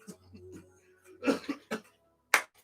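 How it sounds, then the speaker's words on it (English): Several short, harsh coughs come in quick bursts with brief pauses between them, close and fairly loud, with a little throat sound in between. "Got me coughing in here."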